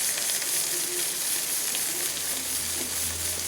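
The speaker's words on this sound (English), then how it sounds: "Let it fry for some more time." Lamb brain masala fries in a pan with a steady, loud, close sizzle and hiss that continues without a break.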